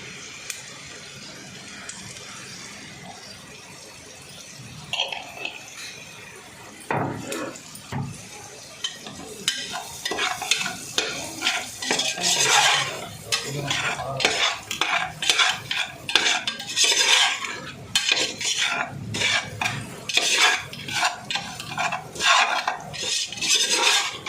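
Onions fry in a pan for cracked-wheat upma while a spoon scrapes and clinks against the metal, with quiet sizzling at first and then steady, busy stirring that grows louder and rattles in quick bursts.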